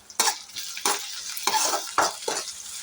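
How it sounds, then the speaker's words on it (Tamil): Sorrel (gongura) leaves sauté in a pan with several sharp spatula scrapes and stirs, each burst of clatter over a soft frying sizzle, spaced roughly every half second. "இது நல்லா ரோஸ்ட் ஆகட்டும். நல்லா வதங்கட்டும்."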